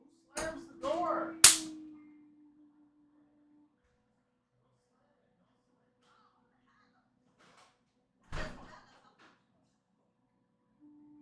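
A door slams once with a sharp, loud bang near the start, right after some brief nearby noises. A fainter knock follows several seconds later, and the rest is near silence.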